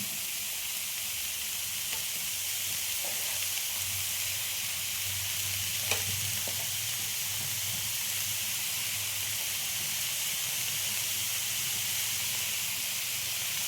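Chopped onion leaves fry in a pan as the base for an egg curry, giving a steady, even sizzle and hiss throughout with a few faint stirring clicks and no talk.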